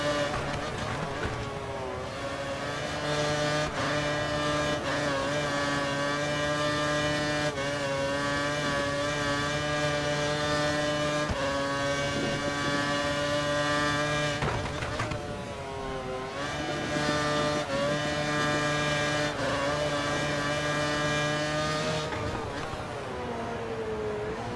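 Formula 1 race cars lapping the Spanish circuit in the F1 video game, a steady high-pitched engine whine with gear-shift dips and pitch sweeps running throughout, under a commentator's voice.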